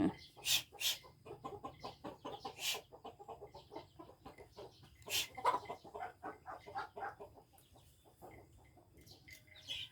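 Chickens cluck repeatedly in a Thai rural home setting, with short rhythmic bursts and occasional louder calls, close by, while a person talks over them at times.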